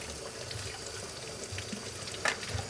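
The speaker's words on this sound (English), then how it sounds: "Okay, so I've got celery and I've got chives. Let's rinse this off." Tap water runs steadily over celery and chives being rinsed, a soft continuous pour with faint splashes and a brief louder trickle near the end.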